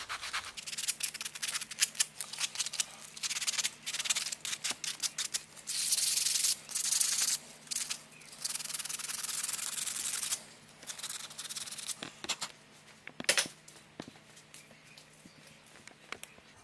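Rough sandpaper rubs back and forth over a handmade wooden spoon in quick, close scratchy strokes, repeated in irregular bursts with short gaps, steady and fairly quiet throughout.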